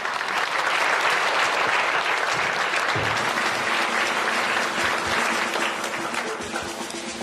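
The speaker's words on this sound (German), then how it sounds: "Applaus bitte" An audience bursts into loud, dense applause for a stage dog-training act with a giant dog. The clapping is steady and full for several seconds before easing slightly toward the end.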